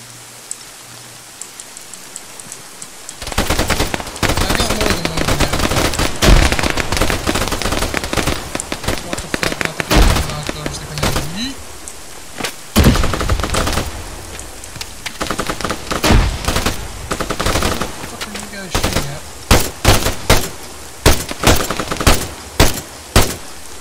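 Rapid bursts of automatic gunfire in Arma 3, loud and dense, firing in long crackling volleys with short gaps, under continuous game ambience and occasional faint talk.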